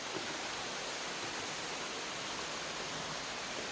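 Constant roar of Deungseon Falls tumbling down a sheer rocky gorge, a dense, unbroken wash of water noise held at an even level from start to finish.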